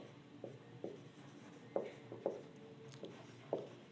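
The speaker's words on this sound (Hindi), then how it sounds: "आगे हम लिखते हैं काइनेटिक एनर्जी।" Chalk or marker writing on a board, a run of short, sharp tapping strokes at uneven intervals over a quiet room background.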